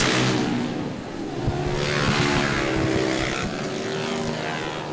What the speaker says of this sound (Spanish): Estas motos de 4 tiempos